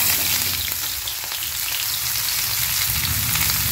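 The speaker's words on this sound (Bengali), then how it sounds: "কুচনো পেঁয়াজটা তেলে ভালো করে ভেজে দেবো।" Chopped onion frying in hot mustard oil in a pan, a steady, loud, close sizzle with dense crackling that holds evenly throughout and has no voices.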